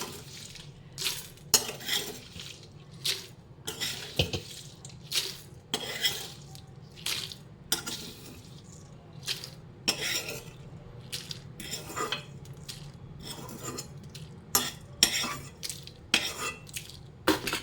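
Fried dried red chillies are stirred and scooped from a pan onto another plate, with irregular metallic scrapes and clinks of a utensil against cookware, fairly close, between quieter pauses and a faint sizzle, with no talking.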